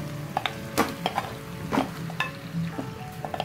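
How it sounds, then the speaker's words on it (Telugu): Marinated chicken pieces fry over high flame in a pan with soft tomatoes while a spoon stirs, giving a steady sizzle broken by irregular scraping clicks against the pan, close and clear. "హై ఫ్లేమ్ లోనే పెట్టుకొని ఒక 5 నిమిషాలు ఫ్రై చేసుకోవాలి ఇలా బాగా మిక్స్ చేసుకుంటూ"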